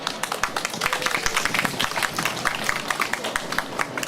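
Dense, steady applause from a crowd at a political party launch press conference, many hands clapping close and continuously with no talk over it.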